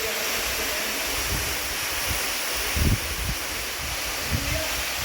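Steady broadband rush of a small hidden waterfall in the hills, falling over moss-covered rock, continuous and moderately loud, with a few low thumps and bumps from the microphone.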